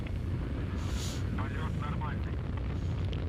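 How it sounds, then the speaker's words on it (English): Rocket engine roaring steadily through launch ascent of a flight carrying two satellites, a dense continuous low rumble filling the whole stretch, with a brief brighter hiss and faint voice-like tones over it. "The rocket continues its ascent."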